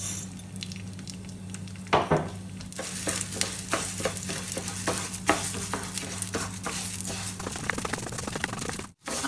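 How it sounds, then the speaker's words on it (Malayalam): Moong dal is fried in ghee in a pan for a Kerala sadya payasam, giving a continuous close sizzle with frequent scraping, rattling stirs of a spoon through the dry lentils and a brief clatter near the end. "ഇനി നമുക്ക് ഇതിനകത്തോട്ട് ചെറുപരിപ്പ് ഇട്ടിട്ട് നന്നായിട്ടൊന്ന് ഫ്രൈ ചെയ്തെടുക്കണം"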